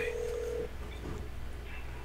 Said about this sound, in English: Answer the phone, Ashley.